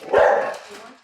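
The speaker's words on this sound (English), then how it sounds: "we were immediately greeted by a choir of dogs" Dogs greet visitors inside a home, with one loud, close bark ringing out and quickly fading.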